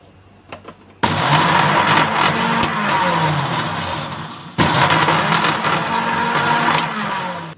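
A blender jar grinding neem leaves into a coarse powder. A loud whirring motor starts abruptly, runs for a few seconds, dips briefly, then surges again and runs steadily to the end.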